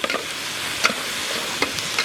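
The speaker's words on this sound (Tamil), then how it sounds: "நல்லா போட்டு வதக்கணும் நண்பர்களே, நல்லா வதக்கணும்" Onion and green chilli sauté in a pan outdoors, a close, steady sizzle broken by a few sharp scrapes and clacks of a stirring utensil, with no voices.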